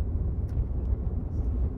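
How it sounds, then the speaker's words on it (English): Low, steady exhaust rumble and drone of a 2006 Mini Cooper S R53 with supercharger, six-speed manual, heard from inside the cabin while driving, fairly quiet and continuous. "you guys can hear the exhaust, it's a little bit loud."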